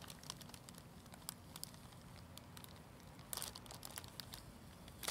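A wrapped parcel holding a hand-woven blanket is opened carefully, making faint, sporadic crinkles and small papery rustles in a quiet room.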